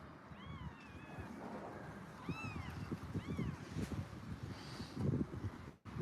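Several orphaned kittens meow in short, rising cries, a few calls in a row with pauses between, close by and fairly clear over low background noise.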